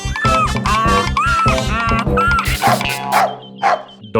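A cartoon dog barks on a farm in an animated story: loud, close yips repeated in quick bursts over a steady melodic musical backing.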